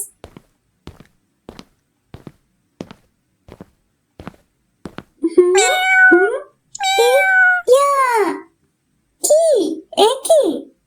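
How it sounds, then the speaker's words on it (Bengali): A black cat meows in a cartoon, and its several drawn-out, expressive meows follow a run of soft, evenly spaced footsteps. The meows are loud and close, with short pauses between them. "কালো বিড়াল"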